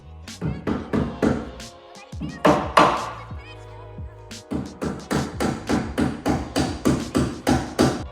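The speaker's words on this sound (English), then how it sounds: "we will start from the control arms, we will hammer them in" Repeated hammer blows drive control arms into the front suspension of a 1973 VW Super Beetle, a steady run of loud, close metallic strikes with a brief pause partway through.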